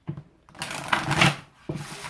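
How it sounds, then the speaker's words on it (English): A deck of tarot cards is shuffled by hand in a quiet room, with a few quick riffling bursts and soft slaps, close and clear. "I'm going to give it a good shuffle."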